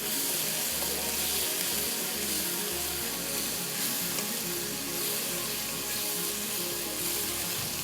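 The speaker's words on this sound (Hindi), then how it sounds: "थोड़ा सा भून लेंगे, कच्चापन ख़त्म हो जाएगा" Spicy peri peri sauce sizzling and frying in a pan, a constant loud hiss with a watery, rushing texture and low rumbling underneath, with no voices.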